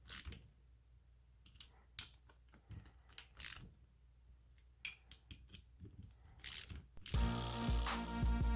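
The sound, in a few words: ratchet tightening bolts evenly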